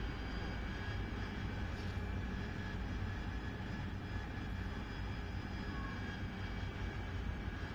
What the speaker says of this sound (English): when the engine sound makes this winding down sound